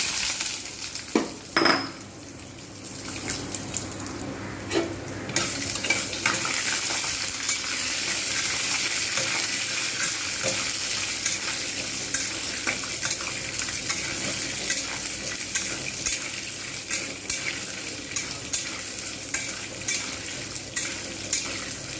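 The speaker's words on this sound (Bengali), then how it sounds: "প্রথমে ভাজবো বাদাম" Peanuts fry in a pan with a continuous close sizzle, dotted by frequent small clicks and rattles of the nuts being stirred and knocking against the metal, plus an early sharp clink.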